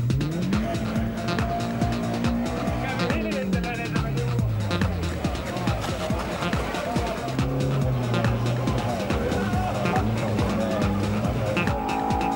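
Rally cars skid and crash on a gravel or dirt stage, engines revving hard with repeated tire squeals and scrabbling skids, loud and continuous with shifting engine pitch throughout.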